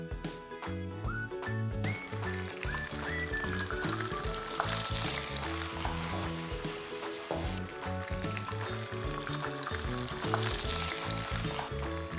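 Schnitzel frying in hot oil, a dense continuous sizzle and crackle held at steady loudness throughout, with music playing underneath.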